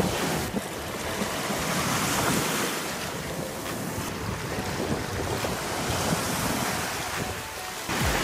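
Surf washes steadily onto a beach at Navarre, a continuous rushing roar of breaking waves with wind buffeting the microphone and no talking.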